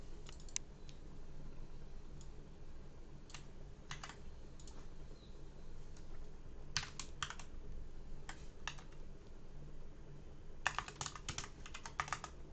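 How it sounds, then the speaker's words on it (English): Keystrokes tap out on a computer keyboard in scattered bursts while writing WordPress header button code, with quick clusters of clicks separated by pauses over a low steady room hum. "Come on, John, type."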